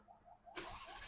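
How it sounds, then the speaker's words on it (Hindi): A tuned BMW M3 Competition G80 fires up after half a second of near-quiet, bursting into a loud, sustained engine roar that holds steady to the end. "let me give you a startup of this car"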